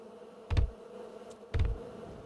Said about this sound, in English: If you get tired of all the bees, smoke grenades are a permanent way to stop the buzzing noise.